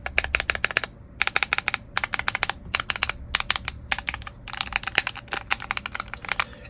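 Mechanical Cherry switch arcade buttons on a Haute 42 stickless controller click in rapid bursts, sharp close-up keyboard-like clacks in quick clusters separated by brief pauses, with no talking.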